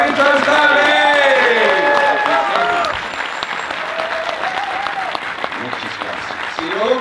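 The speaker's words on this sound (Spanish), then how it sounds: "un fuerte aplauso para Richard Stanley" Audience at a film screening with Richard Stanley in Madrid applauding loudly, mixed with cheering and voices, the clapping carrying on more softly after the first few seconds.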